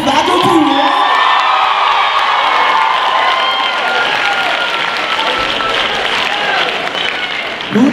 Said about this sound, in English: Can we get another round of applause for the faculty?